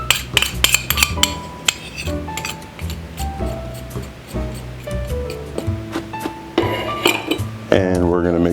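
A utensil clinks and scrapes against a bowl while sugar is mixed into dry pancake ingredients, with bright metallic taps close up over a steady musical background.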